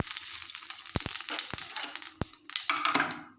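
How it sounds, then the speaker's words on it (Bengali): Black cumin seeds tempering in hot oil in a kadai crackle and sizzle up close, with a few sharp pops and clinks of a spoon amid the steady frying hiss, no talking. "তেলের মধ্যে ফোড়নটা দিয়ে দিলাম।"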